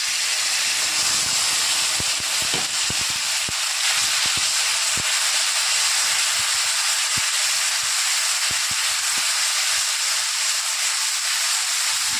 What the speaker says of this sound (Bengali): ওই তেলেই মাছ ভাজা তেলে দিয়ে দেবো আমি সর্ষে কাঁচা লঙ্কা আর হলুদ একসাথে